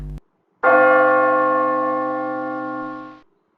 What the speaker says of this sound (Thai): เสียงทุ้มยกตัวอย่างเสียงตีระฆังค่ะ